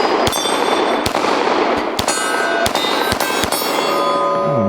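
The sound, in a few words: pistol shots fired at a steel plate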